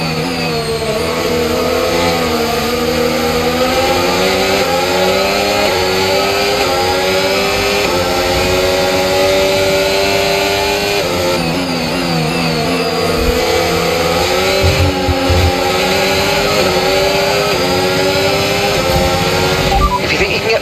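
An F1 race car engine in F1 25, in Driver Career Mode with wear developing on the internal combustion engine, droning steadily and loud throughout with rising and falling pitch sweeps as it revs through gears.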